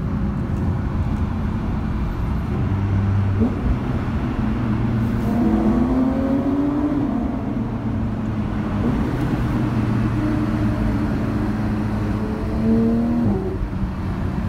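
A Porsche sports car engine hums and growls steadily from inside the cabin, rising in pitch now and then as it accelerates through traffic.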